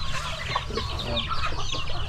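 A flock of free-range chickens clucking steadily and close by in grass, overlapping calls with no pauses.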